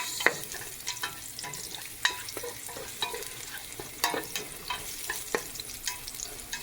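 Ginger, garlic and onion sauté in a pan as the base for sinigang, a steady sizzle broken by frequent sharp scrapes and clacks of stirring, close and alone.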